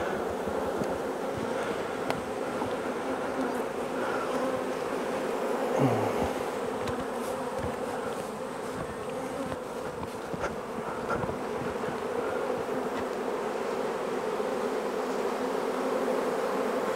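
Dense, continuous buzzing of many honeybees swarming around an open, queenless hive during honey pulling, steady and close with no talk over it.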